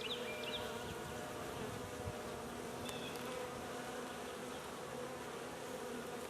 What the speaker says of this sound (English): I don't think these bees are too entirely enthralled with what I'm doing.